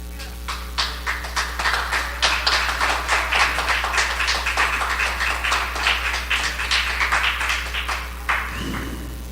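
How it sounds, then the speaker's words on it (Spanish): A church congregation claps steadily in a brisk, even rhythm, sharp hand claps repeating for several seconds over a constant low hum, then tailing off at the end. "Ese aplauso es para el Señor"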